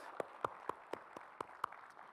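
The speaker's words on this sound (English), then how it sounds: "Please welcome him with thundering applause" Scattered hand claps from an audience at a formal opening address, about eight distinct claps spaced fairly evenly, quiet and sparse rather than a full ovation.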